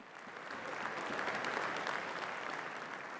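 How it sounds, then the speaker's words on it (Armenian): Members of the European Parliament give a standing ovation, a steady, dense wash of applause from a large hall, heard at a moderate distance and sustained without pause. "ելույթի վերջում ավանդական խոսքն է եւ եվրոպացիների հոտնկայս ծափողջունները"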